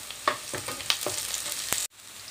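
Curry leaves, onion and capsicum sautéing in a pan, a steady close sizzle broken by several sharp stir scrapes and clicks, cutting off abruptly near the end.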